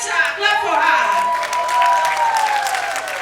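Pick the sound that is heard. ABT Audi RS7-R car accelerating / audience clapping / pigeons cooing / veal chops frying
audience clapping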